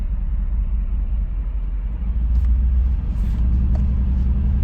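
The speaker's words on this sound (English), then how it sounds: "let's go ahead and take it for a short drive" A Mercedes G63 AMG drives along in manual mode, giving a steady low engine and road rumble heard from inside the cabin. The drone stays continuous and fairly loud, with a few faint clicks and no speech.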